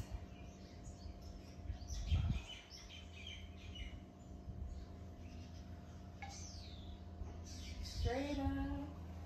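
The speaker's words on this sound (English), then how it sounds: "You can hear the birds." Faint birds chirp and call outdoors, with scattered short tweets and a clearer warbling phrase near the end, under quiet background noise.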